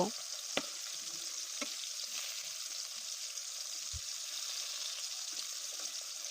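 Bitter gourd slices fry in hot oil, giving a steady bubbling sizzle with a few sharp clicks and knocks as the slices are turned over.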